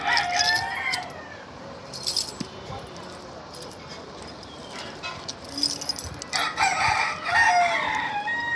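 Chickens and a rooster inside a dim poultry house on a farm, with repeated crowing and bursts of clucking at close range, rising and falling over steady barn background noise.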